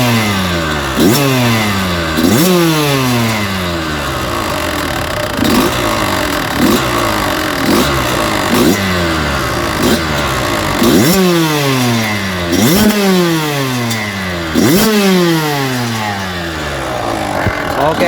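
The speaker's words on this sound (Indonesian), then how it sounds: "kita langsung cek sound ya sob ya. Kawasaki KX 85." A Kawasaki KX85 two-stroke motorcycle engine revs repeatedly, loud and close, each sharp rise to a high buzzing pitch dropping back before the next blip in a steady rhythm.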